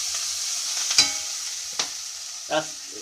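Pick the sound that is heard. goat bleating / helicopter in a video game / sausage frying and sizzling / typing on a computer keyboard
sausage frying and sizzling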